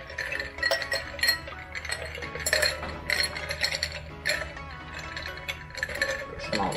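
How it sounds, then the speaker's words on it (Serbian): Ice cubes tumble into a half-litre pint beer glass, giving a series of bright clinks and rattling knocks close by, with no talking. "Znači, prvo sipamo led."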